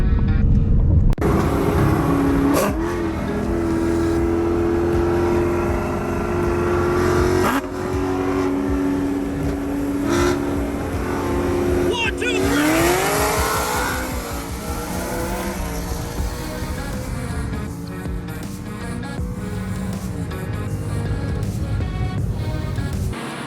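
A Roush Stage 3 Mustang with a Borla Atak exhaust, run without its active exhaust valves, idles with a deep steady rumble, then revs up in rising sweeps and settles back, loud and close, with a slight rattle.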